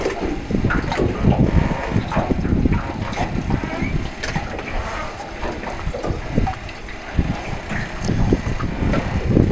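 A small sea-fishing boat engine in Northern Norway runs with cooling water spilling out aft, a rough, continuous rumble with splashing and gusty wind buffeting the microphone throughout.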